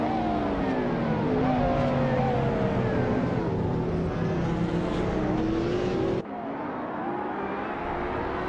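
A pack of race cars, one a 2011 model, roars off the start at Estoril without the chicane in a racing game, engines droning loudly and steadily with rising, overlapping revs, cutting abruptly to a slightly different mix near the end.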